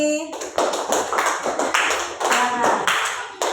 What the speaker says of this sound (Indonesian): tepuk tangan buat kelompok auditori